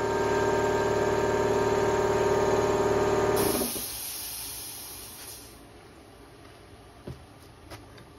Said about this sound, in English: Let me turn that air compressor off.